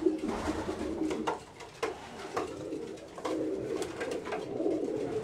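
Racing pigeons coo steadily in a loft, their low soft rolling calls overlapping and repeating throughout, with a few faint clicks and rustles mixed in close by.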